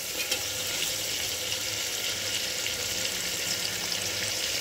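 Chicken pulao mixture with chillies sizzles steadily in a pan, a dense, even hiss of frying that carries on close and continuous with no talking.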